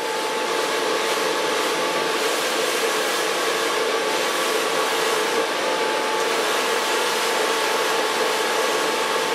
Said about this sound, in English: Gonna use a brush to blow dry hair.